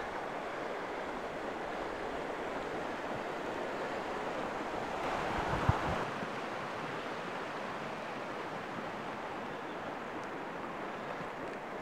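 Steady wind at an RV campsite on a cold, rainy day, a continuous broad rushing roar with microphone buffeting, loud and unbroken with no voices.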